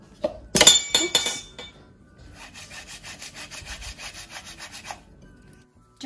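Boiled medium-sized potatoes rubbed across a grater, a steady rhythmic rasping of about a dozen close strokes after a brief clatter of handling at the start.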